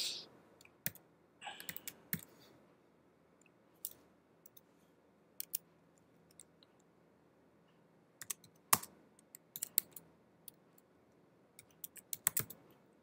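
Sparse keystrokes on a computer keyboard while HTML code is typed, scattered irregular clicks and short bursts, fairly faint and close, with no talking.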